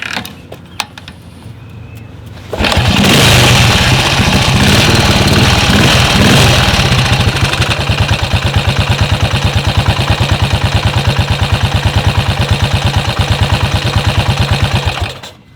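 A 1972 BSA B50SS British single-cylinder motorcycle kick started: a quiet stretch with a few mechanical clicks, then the engine abruptly fires and runs loud and close with a rapid, steady thumping beat that carries to the end.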